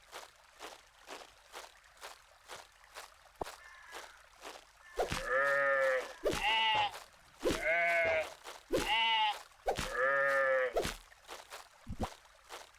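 Sheep bleat in a dark fantasy survival video game, four loud drawn-out bleats in a row after quiet soft footsteps, with a short sharper sound near the end.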